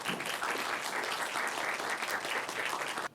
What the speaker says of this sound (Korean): 앞으로 나오실 때 큰 박수 부탁드립니다.